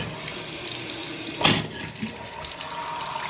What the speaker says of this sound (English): turn water back on and just check